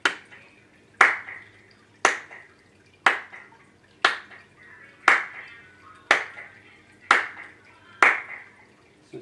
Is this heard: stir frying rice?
no